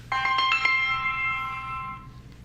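A phone ringtone chimes in bright, bell-like tones, a quick cluster of notes at the start followed by a sustained ringing that fades out after about two seconds; no one speaks.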